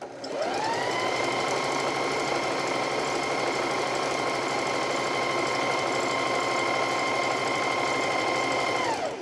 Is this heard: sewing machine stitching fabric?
yes